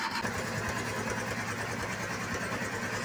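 Suzuki Multicab F6a engine with its timing belt cover removed, running with a steady close mechanical clatter and hum, fairly quiet throughout with no voices.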